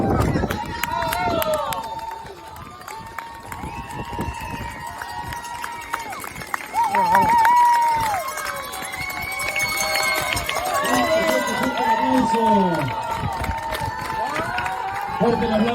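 A crowd claps and cheers as a runner reaches the finish of a Patagonian endurance race, with whistles and shouts mixed in and voices talking over the steady, lively noise.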